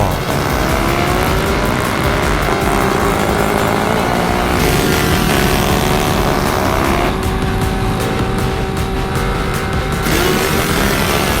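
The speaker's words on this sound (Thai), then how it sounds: "เต็มไปด้วยเสียงรถซิ่ง ที่เร่งเครื่องตามท้องถนน" Souped-up street racing cars rev and accelerate along a road, a loud, continuous, roaring engine drone that swells and shifts in pitch without a break.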